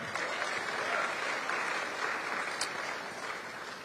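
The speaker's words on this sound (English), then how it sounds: "Y'all can clap on that." Audience at a Democratic candidates' political forum breaks into applause, a fairly quiet but steady patter of many hands clapping that fades slightly near the end.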